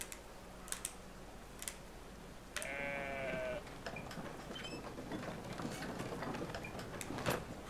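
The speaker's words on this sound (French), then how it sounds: "Et le grand va aller chercher un mouton." Sheep bleat in the video game Brothers: A Tale of Two Sons, a short wavering cry rising at mid-distance over a busy ambient game soundscape with scattered ticks and clicks.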